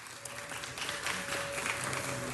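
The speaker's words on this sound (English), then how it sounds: "You deserve a big round of applause." Applause fills a city council meeting chamber as a room of people claps steadily throughout, with a murmur of voices underneath.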